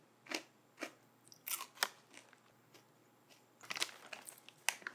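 Trader Joe's peanut butter granola clusters bitten and crunched close up, with a series of sharp, crisp crunches in irregular bursts and no talking.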